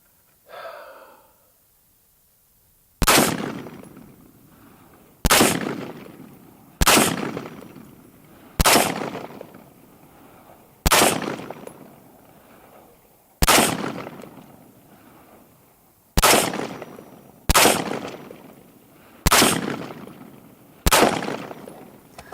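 Ten loud, sharp gunshots from a Radical Defense MK1 Mod 1 14.5-inch patrol rifle firing M193 rounds, spaced about two seconds apart, each with a decaying echo tail after a brief breathy sound at the start.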